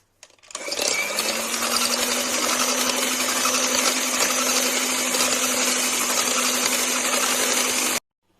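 An electric mixer beating cake batter with butter, a steady close whirring drone with a constant motor hum that starts abruptly and cuts off cleanly, no voices.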